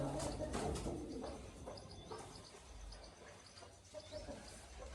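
Purebred Mira pigeons at a sale, soft low cooing from nearby birds over a steady background hum, with faint chirps, no talking.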